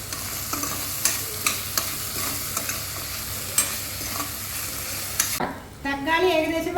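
Onions and tomatoes for chicken curry being stirred and sautéed in a pan, a steady close sizzle and fry broken by sharp scraping clicks of the spoon, ending with a louder bubbling hiss.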